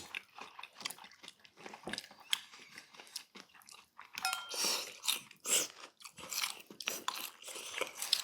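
Someone eats salmon sushi and salmon salad up close, with moist chewing and soft crunches in an uneven, continuous rhythm and no talking.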